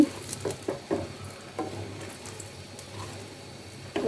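Garlic, onion and nigella seeds frying lightly in a pan for a bean mash, with a soft sizzle underneath and a few sharp clinks and stirring taps scattered through, heard alone and fairly close.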